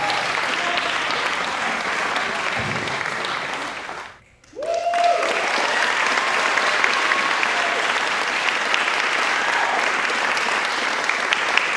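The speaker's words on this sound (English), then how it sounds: "one more round of applause for Mr. Robin" Sustained audience applause at a high school percussion ensemble concert, dense even clapping from a large crowd that briefly drops out before swelling back to a full, steady roar.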